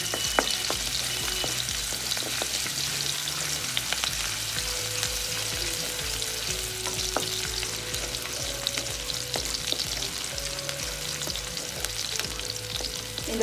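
Five cloves of finely chopped garlic sizzle steadily in about two spoons of hot oil in a pan, with scraping stir strokes and spatula taps recurring throughout, close and continuous with no voices.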